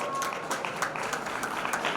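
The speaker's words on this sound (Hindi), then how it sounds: "बहुत अच्छा, ताली बजाओ।" An audience at a community felicitation ceremony applauds together, a dense, steady patter of many hands clapping without pause across the whole stretch.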